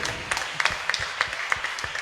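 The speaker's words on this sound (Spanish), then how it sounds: "¿Cuántos le pueden dar un aplauso al Rey de Reyes?" Congregation applause at a Spanish-language church service, a steady wash of many hands clapping with repeated sharper claps standing out, moderately loud and sustained, with no talking over it.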